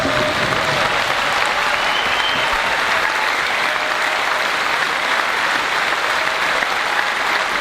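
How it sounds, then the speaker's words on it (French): A large audience at a Quebec event applauds education workers, a loud, dense, sustained wash of clapping with no gaps from start to finish. "Et qu'on les applaudit."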